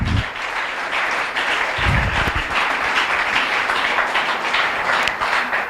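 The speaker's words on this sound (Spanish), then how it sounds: "Aplauda si va a aplaudir." A church congregation claps together in sustained, dense applause that fills the room at a steady level, with a few louder thumps near the start and middle.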